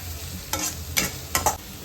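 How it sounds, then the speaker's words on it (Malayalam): Squid sautés in a hot pan, a continuous sizzle broken by three or four sharp scraping stirs of a spatula close by. "ഇതെല്ലാം കൂടെ നല്ല രീതിയിലൊന്ന് പെട്ടെന്ന് വഴറ്റിയെടുക്കാം കേട്ടോ"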